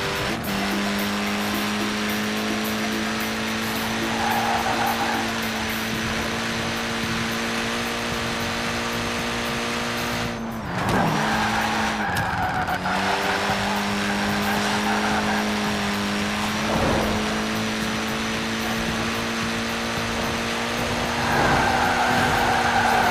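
A Mini Cooper S engine in Forza Horizon 4 drones steadily at racing speed, holding a continuous loud pitch with brief drops during gear changes and an occasional tire squeal.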